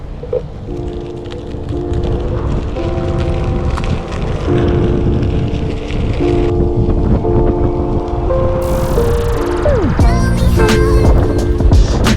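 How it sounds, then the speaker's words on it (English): Onewheel GT electric board ridden outdoors, its motor whining in steady tones that shift in pitch as speed changes, mixed with rumbling wheel noise and wind buffeting the microphone, with no talk. "Day 4, riding the one wheel."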